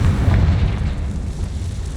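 A Confringo fire spell blast in the video game Hogwarts Legacy: a loud, low booming burst that rumbles and slowly fades away, with no voices.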